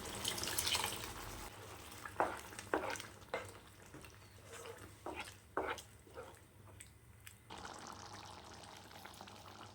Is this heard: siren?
no